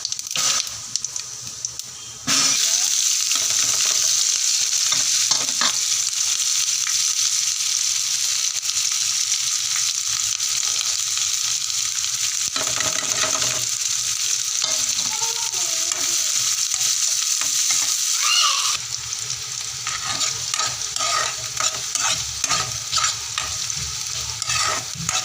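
Cumin seeds hit hot oil with a sudden loud, sustained sizzle that hisses steadily for a long stretch, with occasional stirring scrapes and a brief settling before crackling resumes.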